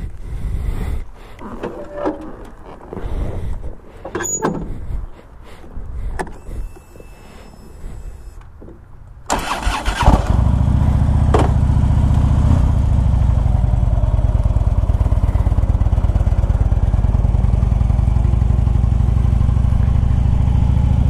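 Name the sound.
2011 Harley Davidson Ultra Limited motorcycle engine starting, riding off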